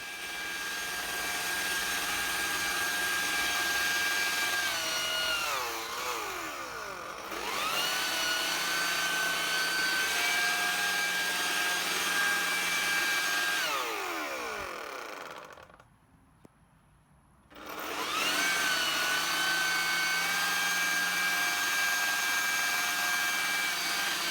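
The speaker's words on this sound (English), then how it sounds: "me using the Ryobi blower around the yard and in the garage and just showing you how it performs" A Ryobi cordless electric leaf blower clearing trimmings around a yard runs with a steady high whine, easing down and revving back up twice, then cutting out briefly before restarting, loud and close with no talk.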